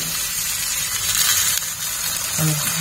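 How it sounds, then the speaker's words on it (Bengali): Water poured into a pan of frying ridge gourd and small fish curry, a loud steady hiss and sizzle that gushes across the whole moment, close up. "দেখো বন্ধুরা, এই দিয়ে দিলাম একটু জল।"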